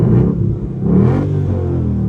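An S550 Mustang GT with an SR Performance axle-back exhaust revs up close, a deep burbling rumble that swells, dips briefly, and rises again in a short blip.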